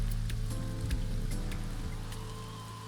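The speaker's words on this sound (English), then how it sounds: "Parasol is getting pelted by the rain." Rain pelts steadily on a parasol in the video game AI: The Somnium Files, a dense patter with scattered sharper drops over a low constant hum.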